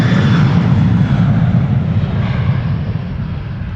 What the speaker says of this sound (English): The second Transavia to Naples will be taking off here via Cheetah's Lane